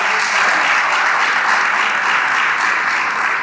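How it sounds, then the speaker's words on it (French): Loud, dense applause from an audience at a scientific days closing ceremony, a continuous wash of many hands clapping at once, steady from start to finish. "Vos applaudissements."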